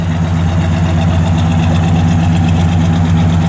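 A 1967 Pontiac GTO V8 with factory exhaust manifolds and dual exhaust idles close by, a loud, steady, even rumble throughout with no speech.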